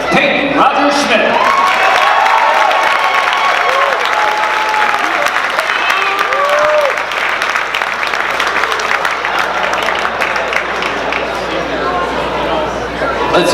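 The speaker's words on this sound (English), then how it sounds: "Let's give these 5 great student athletes a big round of applause." Sustained applause and cheering fill a basketball gym as five student athletes are honored, a dense crowd clapping steadily throughout with chatter mixed in.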